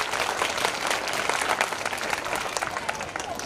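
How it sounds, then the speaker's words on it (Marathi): A live audience bursts into sustained, dense applause that fills the room at steady loudness throughout, with clapping and crowd noise heard together. "तर स्वतःसाठी इथं टाळ्या वाजवा"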